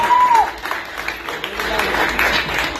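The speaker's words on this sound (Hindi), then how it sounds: "तालियां हो जाए, तालियां" Audience at a Ganpati pandal prize ceremony clapping, a dense burst of applause with crowd murmur, after a brief tone at the start.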